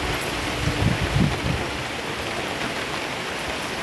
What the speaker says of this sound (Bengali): এই দিকটা বৃষ্টিটা বোঝা যাচ্ছে